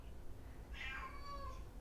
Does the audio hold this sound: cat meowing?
yes